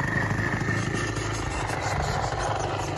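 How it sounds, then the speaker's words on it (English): A KingTech K-70G2 model jet turbine, fitted in a Freewing MiG-29 Fulcrum, roars steadily with a whining tone over broad rushing noise, loud and close throughout, without a clear spin-down. "once you hear the engine kind of shut down, then you can disconnect the receiver battery"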